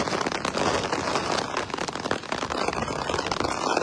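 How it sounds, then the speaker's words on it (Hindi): Heavy rain pours over Jammu city, a dense loud wash of hiss and pattering drops filling the sound continuously, with close crackling splashes and no voices. "जहाँ पर बहुत ही तेज बारिशें हो रही हैं अभी फिलहाल"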